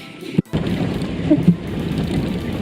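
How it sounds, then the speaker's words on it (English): Heavy rain pours steadily on a drive near Lake Kel-Suu in Kyrgyzstan, a dense, close wash of noise with a brief dropout and a few louder bumps, and no voices. "Still raining pretty hard."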